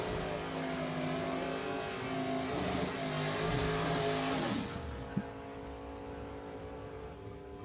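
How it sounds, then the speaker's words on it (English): A G-Stock automatic Chevrolet Camaro and an 1986 front-wheel-drive Ford Tempo drag racing, with a loud, steady engine roar and rising tones that fade out after about five seconds, leaving a softer distant rumble. "Here we go, Mike Walter, G-Stock automatic Camaro"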